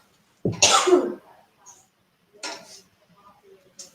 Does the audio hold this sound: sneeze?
yes